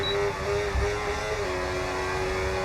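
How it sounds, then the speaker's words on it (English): A race car engine in an F1 video game, bogging down out of fuel on the final lap: a continuous strained mid-pitched engine drone that wavers and sags briefly, with no talking. "That was the sound of my engine bogging down."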